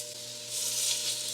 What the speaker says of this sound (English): And now we're going to start putting in the pieces. And hear that sizzle.